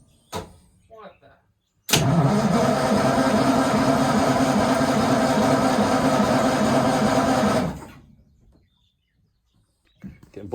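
Houseboat outboard motor cranking over quickly and catching, a loud continuous engine burst of about six seconds between quieter stretches with voices nearby.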